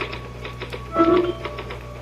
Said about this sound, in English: Can I use the typewriter for a moment?